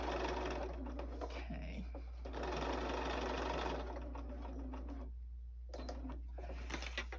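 A sewing machine runs in steady bursts while stitching the seam of a journal cover. Its close, even mechanical whir stops briefly twice and then starts again.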